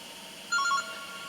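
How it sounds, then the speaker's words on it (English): A telephone rings in a short electronic double trill, two quick warbling bursts close together, standing out clearly over a steady background hum. "I'll just answer the phone quickly if you don't mind."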